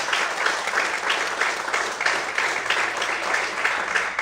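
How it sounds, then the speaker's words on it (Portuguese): A church congregation applauds during a sermon, a steady dense wash of clapping from many hands that stays even and fairly close throughout, with no voices over it. "Quantos podem aplaudir e exaltar o Senhor?"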